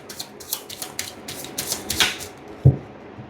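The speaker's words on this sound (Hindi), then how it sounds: "एक और बार शफल कर लेते हैं फिर बताते हैं।" Tarot cards being shuffled by hand, a close run of soft, rapid flutters and riffles ending in a dull tap as the deck is squared.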